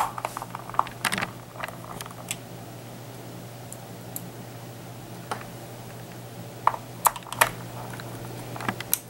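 Screws being driven and tapped into a Compaq Presario CQ57 laptop during reassembly, heard as scattered sharp clicks and ticks, some in quick clusters, over a steady low hum.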